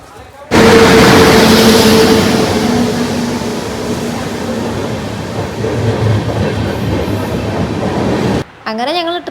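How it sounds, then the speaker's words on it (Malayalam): A passenger train rolls along the rails in a loud, steady, close rumble heard from on board, with faint rhythmic clatter throughout before cutting off abruptly near the end. "അങ്ങനെ ഞങ്ങൾ ട്രെയിനിൽ കയറി."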